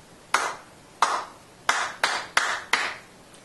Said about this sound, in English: Let me clap it again.